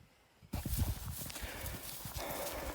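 Heavy draft horses clop along a road, their hooves striking in an uneven walking rhythm that starts abruptly and continues close and clear outdoors.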